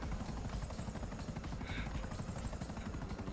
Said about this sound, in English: Four-seater chopper.